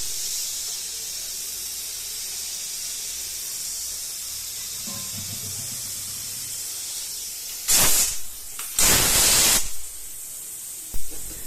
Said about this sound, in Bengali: প্রেশার কুকারের ঢাকনা লাগিয়ে দেওয়ার পর চলুন একটুখানি সিটি ফেলে দেওয়া যাক